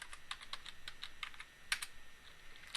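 A computer keyboard gives a short stretch of soft, evenly spaced keystrokes, faint clicks against a low background hiss.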